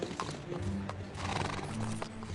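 A mare neighs and stamps with hoof clip-clops at moderate distance, a short busy burst of horse sounds in an outdoor scene.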